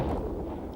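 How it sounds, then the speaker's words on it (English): A distant explosion in the 1990s Moomin cartoon comes through as a low, muffled rumble that fills the whole moment steadily, without a sharp crack, and no voices over it. "We're waiting for another explosion, Mama."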